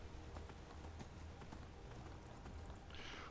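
A horse gallops in Skyrim, its hooves beating a steady, rapid clip-clop that sits under a dense wash of game ambience, fairly faint overall.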